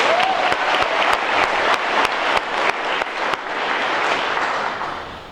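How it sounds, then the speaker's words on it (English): Audience applause at a church service fills the space with dense, steady clapping from a sizable crowd, a few sharper claps standing out, tapering slightly near the end. "Let's give them another round of applause."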